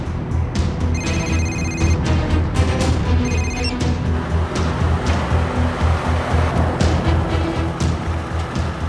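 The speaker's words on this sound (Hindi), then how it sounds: "बज रहा है, फोन बज रहा है।" A mobile phone rings in repeated electronic bursts, loud and close, over a steady wash of background ambience in a dramatic scene.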